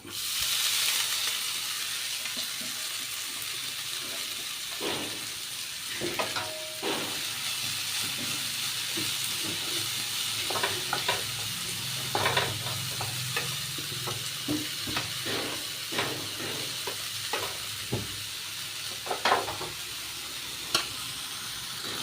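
Spinach leaves sizzling and crackling in a hot pan with halved dried red chillies, a steady hiss with scattered sharp pops and stirring, no voices.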